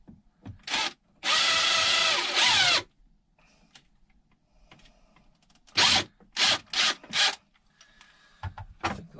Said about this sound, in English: Let me try driving a screw in there to extract them